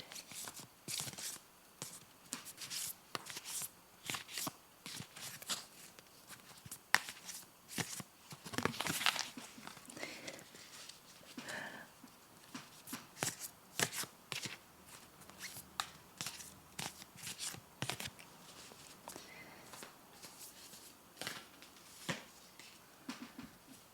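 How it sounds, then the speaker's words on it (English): Tarot cards are shuffled softly and repeatedly in a quiet room, giving close, papery riffles and light taps with no talking. "So let's shuffle the cards and see what comes forward."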